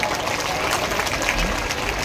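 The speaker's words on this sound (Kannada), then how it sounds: "ಒಂದು ಜೋರಾದ ಚಪ್ಪಾಳೆ" A crowd at a religious fair gathering in Chincholi claps together, a dense and steady wash of applause that stays even throughout, with a faint murmur underneath.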